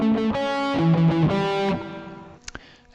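Distorted electric guitar plays a short part from a song's solo, several overdriven notes in a quick phrase that stops abruptly, followed by a couple of faint clicks.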